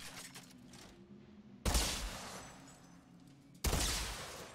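An unusual double gun in Outriders fires two loud, abrupt blasts a couple of seconds apart, each with a booming onset and a long decaying tail over low game ambience.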